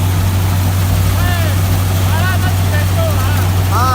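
A John Deere 5210 tractor engine runs steadily at about 1500 rpm, a loud, continuous low drone with a constant hum, while someone talks and music plays over it.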